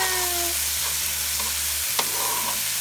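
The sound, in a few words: stirring apples and garlic in a frying pan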